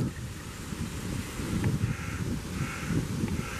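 A skinny raven caws on a morning outing in Vienna, a few rough croaking calls at moderate distance over steady wind noise, with no talking.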